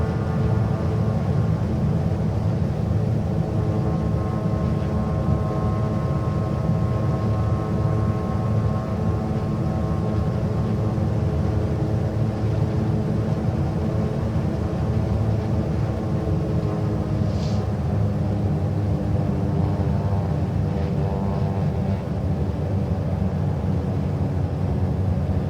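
Twin engines of a Black Square Baron 58P in Microsoft Flight Simulator drone steadily at a constant, loud pitch throughout, heard from the cockpit with no voices.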